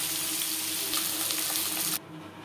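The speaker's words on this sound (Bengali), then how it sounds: "পরের মাছ একইভাবে ভেজে নেব।" Bhangor fish frying in oil in a pan gives a loud, close, steady sizzle that cuts off abruptly after about two seconds, leaving a quieter background.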